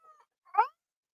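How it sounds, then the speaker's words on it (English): A cat gives a single short meow after a faint brief squeak, close and clear in otherwise quiet surroundings. "if she is meowing"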